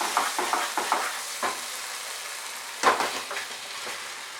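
Potatoes and cauliflower stir-fry with garam masala and spices in a pan, a soft sizzle broken by a series of spatula scrapes and stirring strokes, fairly close and moderately quiet.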